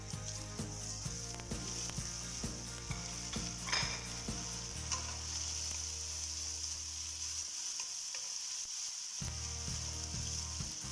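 Tomato added to browned onion sizzles steadily in a pan, a continuous frying hiss with rhythmic scraping stirs and a low cooking hum throughout.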